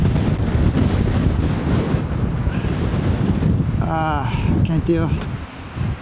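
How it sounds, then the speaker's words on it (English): Gusty wind buffets the microphone with a loud, continuous roar throughout, while a person speaks briefly over it near the end. "Really gusty winds right now again too."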